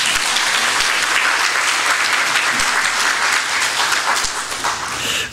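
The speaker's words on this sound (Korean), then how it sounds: "이럴 때 감사하신 박수." A church congregation applauds during a pastor's installation thanksgiving service, a dense, sustained wash of clapping from many hands that fills the room and tapers slightly at the end.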